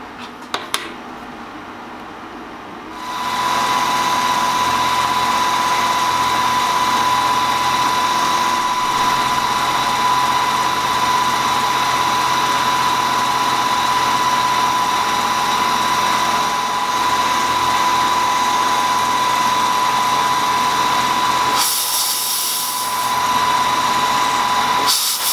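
Machine cutting the corner of a crankshaft counterweight held in a collet block, a steady high-pitched spindle whine with a constant tone running near and loud for most of the stretch after a quiet start, briefly dipping near the end.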